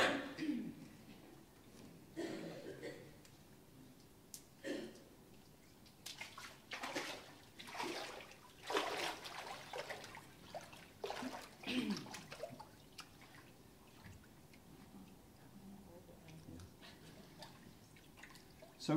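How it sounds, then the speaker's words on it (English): Water sloshes and drips quietly as a person steps into a baptismal pool during a live Baptist church service, with faint irregular splashes and trickles spread over a hushed room. "please enter the water."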